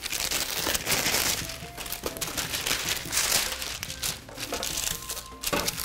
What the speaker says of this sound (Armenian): Վրան յուղաթուղթ ենք փռում